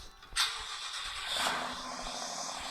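A car in the Roblox game Mansion Tycoon starts up and drives, a steady mid-pitched engine hum that swells slightly, heard alone and close.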